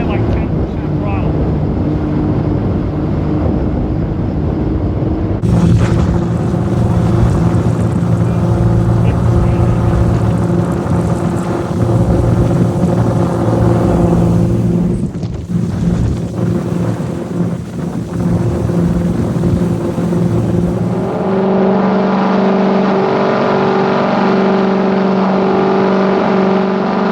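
A 1995 38-foot Larry Smith Scarab speedboat's 2300 hp engines burble deep and loud at low throttle on the water, with wind buffeting the microphone and the rumble shifting in pitch as the boat moves.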